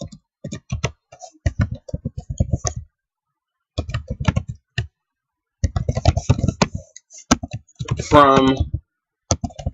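A computer keyboard clatters in short bursts of keystrokes as SQL SELECT statement code is typed, the clicking mixed in with someone talking throughout, and the keys are loudest in the gaps between his phrases.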